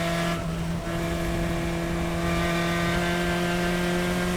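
Race car engine at Sonoma running at a steady, loud drone with strong sustained harmonics from a close in-car position, holding constant throughout with no talk.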